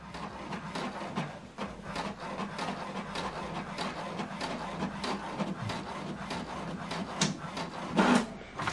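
An HP DeskJet 2800e inkjet printer prints a page, giving a steady mechanical whir and rubbing drone with repeated clicks and sliding paper-feed sounds throughout, nearby and moderately loud.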